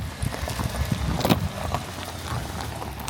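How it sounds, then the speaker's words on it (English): A herd of yaks crossing a river on a Tibetan farm, with steady hoof clatter and splashing churning together in a continuous, moderately loud wash of movement and no clear voices. "a horde of yaks is crossing the river right now."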